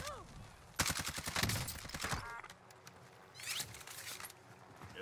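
Gunfire in Call of Duty Warzone rattles out as a rapid automatic burst lasting over a second, then fades, with a few scattered shots and game noise after it.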